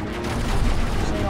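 Rapid gunfire from the space shooter video game Aegis Wing, a dense, loud, continuous burst of blasts with a low rumbling body, brief and steady throughout.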